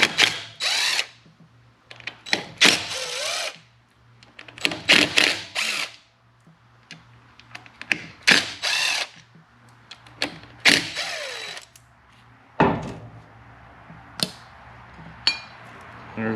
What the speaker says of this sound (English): I'm going to use my impact.